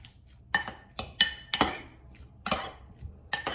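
A chunky pico de gallo salsa being mixed in a bowl, heard as sharp, irregular clinks and knocks of a utensil against the bowl, about eight distinct hits, close and without voices.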